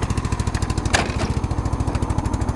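A lawn tractor's gas engine runs steadily close by, a loud, even mechanical chug with regular pulsing and a brief sharper burst partway through.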